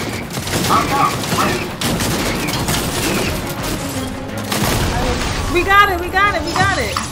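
Video game gunfire in Fortnite, a dense, loud barrage of shots rattling steadily throughout, with people talking over it and a few sharper bursts toward the end.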